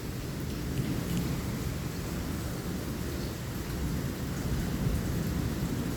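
A thunderstorm brings heavy rain hissing down onto surfaces, with deep thunder rumbling low and continuous beneath it. The dense downpour stays loud and steady throughout, and no one speaks.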